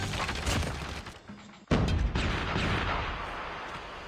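Gunfire in the video game Call of Duty Mobile crackles in a steady stream of shots, with one sharp louder blast midway, moderately loud throughout.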